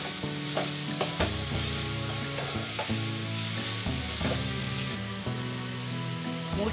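Carrots seasoned with salt sizzle steadily in a hot pan while a spoon stirs and scrapes through them in a loose, repeated rhythm.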